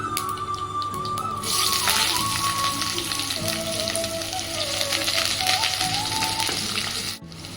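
Mustard seeds, cumin, onion, green chilli and curry leaves fry in hot oil in a kadai, giving a loud, steady crackling sizzle close by, cut off by a brief gap near the end.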